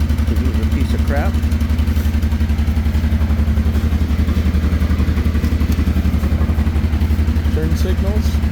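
A 1989 Honda Transalp 600V motorcycle engine idles just after a cold start, a loud, close, steady low thumping rhythm with faint mechanical clatter on top.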